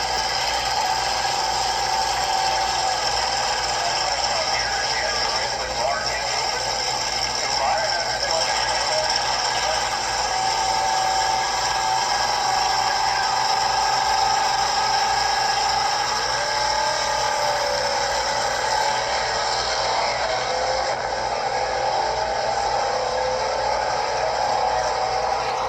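A stock engine in a 1980 Fox body Mustang with 3.08 gears runs steadily, a continuous rumbling drone with some rattle and small rises in pitch, loud and close throughout with no talking.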